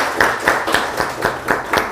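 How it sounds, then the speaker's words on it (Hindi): Rhythmic group clapping at a Delhi picture-description competition event, about eight sharp, evenly spaced unison claps in a steady beat, fairly close and loud. "तालियां बजाएं।"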